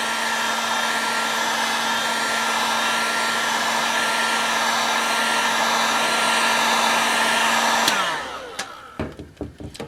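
A heat gun blows a loud, steady whirring hiss while warming a sticker on a new snow brush, then switches off abruptly, leaving a few scattered clicks and handling knocks as it winds down.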